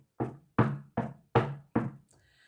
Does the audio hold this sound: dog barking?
no